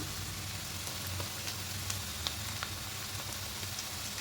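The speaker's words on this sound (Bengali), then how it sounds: "পেঁয়াজগুলো একটু হালকা লাল করে ভেজে নেব হালকা লাল করে ভাজা হয়ে গেছে" Onions frying in a pan, giving a steady, even sizzle throughout with faint scattered pops and ticks, no voices.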